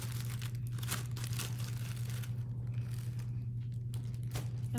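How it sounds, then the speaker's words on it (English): A plastic bag crinkles and rustles in short, uneven bursts as leftover clay is packed away, fairly quiet over a steady low background hum. "So now all of this I'm going to put back into the plastic bag for later."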